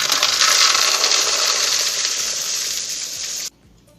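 Dried arabica coffee beans pour from the bottom door of a drying machine, a dense, loud rattling rush that fades slightly before stopping abruptly, leaving near silence.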